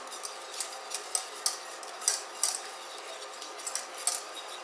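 A whisk beats pieces of butter into a beurre blanc sauce, giving a quiet, steady run of light rhythmic clicks and taps against the pan or bowl with no voices.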